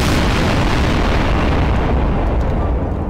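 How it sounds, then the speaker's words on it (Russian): Bazooka explosions from Garry's Mod, a continuous loud roar of overlapping blasts and rumbling booms filling the whole stretch with no letup. "Потому что постоянно взрыв идет."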